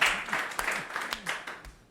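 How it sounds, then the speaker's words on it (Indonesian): Brief burst of applause from students for a classmate in a university lecture, a few seconds of close, uneven clapping that fades quickly. "beri tepuk tangan untuk temannya ya"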